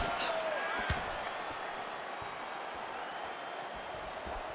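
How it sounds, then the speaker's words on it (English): Arena crowd at a UFC women's bout, a steady distant roar of murmuring and cheering with a few sharp spikes, running under a commentator's voice. "the crowd continues to react with every pass"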